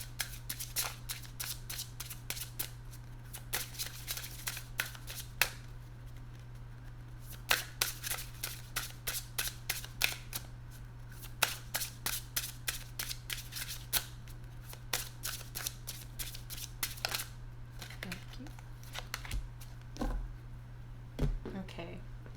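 A tarot deck handled close up over a long stretch: repeated crisp riffling and shuffling bursts, then cards slapped and set down one by one, over a steady low hum, with a voice speaking at times.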